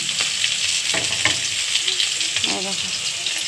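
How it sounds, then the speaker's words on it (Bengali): Potatoes frying in a pan for a home-cooked meat dish, a continuous close sizzle with occasional stirring clicks, with brief talk over it. "আলু এদিকে ভাজা বসে দিয়েছি"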